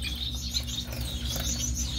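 Young finch chicks chirp continuously in a thin, high twittering chorus, close and steady over a low background hum.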